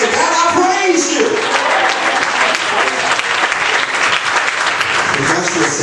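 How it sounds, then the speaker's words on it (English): A church congregation claps throughout a building, a dense and continuous burst of applause that stays loud from start to finish. "Clap your hands all over the building and say, God, I praise you."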